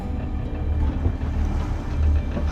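Sailboat motor sailing on the open sea with full mainsail and headsail up at about five knots, a steady low engine drone mixed with wind and water rush, no voices.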